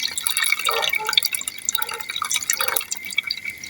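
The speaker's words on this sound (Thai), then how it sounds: "ล้างหลายๆน้ำก็จะงามๆเลยนะคะ ขอไปล้างแป๊บ ล้างหลายน้ำมากเลยค่ะ" Red ant eggs being rinsed in water, with dripping and splashing liquid sounds heard close up in a kitchen, continuous and moderately loud, with some faint voice underneath.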